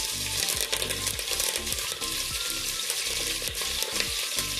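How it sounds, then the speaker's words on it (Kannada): Cashews, green chillies and curry leaves fry in oil for vermicelli upma, giving a loud close sizzle broken by rapid rattling scrapes of a spatula against the pan. "ಗೋಡಂಬಿ ಹಾಕೊಂಡು ಫ್ರೈ ಮಾಡ್ಕೊತೀನಿ. ಮೆಣಸಿನ್ಕಾಯಿ ಹಾಕೋತೀನಿ, ಕರಿಬೇವಿನ ಸೊಪ್ಪು,"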